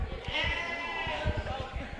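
Sheep bleat at a Rutgers Day 2024 farm animal exhibit, giving several close, wavering cries in quick succession while people talk nearby.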